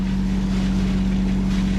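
Boat generator running, its wet exhaust muffler churning and splashing water, a steady close drone with a strong low hum and constant rushing noise.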